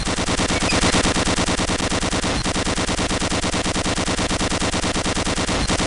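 Sustained rapid automatic gunfire from the shooter video game Gunman Chronicles fills the whole stretch, a loud, dense, unbroken rattle of shots at a steady fast rhythm, with no speech.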